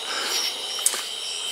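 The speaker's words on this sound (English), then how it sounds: "Crickets." Crickets chirping in a garage or workshop during evening work on a mini chopper frame, a steady high, faint trill running throughout with one brief sharper click midway, no talking.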